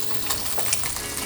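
A fish fillet fries in browned butter in a pan, giving a soft, steady sizzle with faint crackles and no talking.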